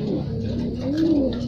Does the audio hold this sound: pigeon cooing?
yes